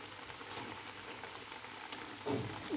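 Snack batter frying in hot oil in a deep pan, a steady dense sizzle and bubbling that runs throughout, with a slightly louder burst near the end; no one speaks.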